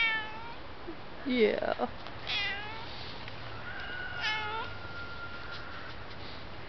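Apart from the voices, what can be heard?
pet cat meowing for attention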